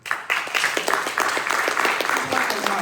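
An audience at a May 2022 empowerment event claps for the event's founder, dense applause swelling quickly and holding steady with scattered voices mixed in.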